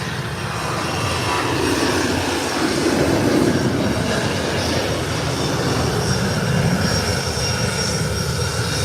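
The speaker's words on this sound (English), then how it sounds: "Here comes American Airlines. Tunneling down the runway." American Airlines airliner rolling down the runway on takeoff, a loud, sustained broadband engine roar that holds steady at a moderate distance.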